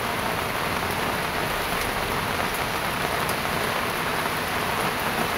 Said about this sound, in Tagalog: umuulan pa, umuulan